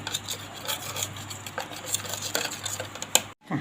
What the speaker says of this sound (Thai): แล้วบดต่อจนเนื้อเนียนเลยนะ